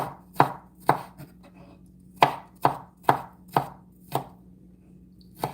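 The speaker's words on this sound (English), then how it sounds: "We want the garlic minced." A knife mincing garlic on a cutting board: about ten sharp, crisp chops at uneven intervals, close and clear with a low background hum, no talking.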